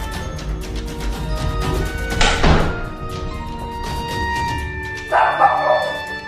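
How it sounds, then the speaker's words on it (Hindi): A frightened dog barks loudly in home camera footage, two harsh bursts a few seconds apart over a steady background of music. "उसे देखकर उनका कुत्ता भी डर जाता है और वो जोर जोर से भौंकने लगता है"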